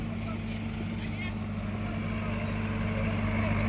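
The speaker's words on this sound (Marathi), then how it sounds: "हे वर्किंगचं काम चालू आहे, इथे JCB इथे लावला आहे।" A JCB excavator and a tractor run at a village worksite, giving a steady low engine drone throughout, with people talking over it.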